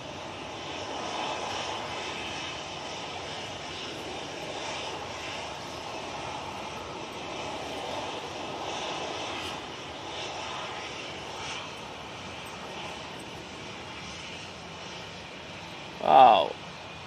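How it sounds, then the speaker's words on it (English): An ATR turboprop airliner from Guernsey arrives at windy Manchester Airport, a steady, moderately loud engine drone heard from a distance, with a brief sharp sound near the end. "So, like this ATR from Guernsey."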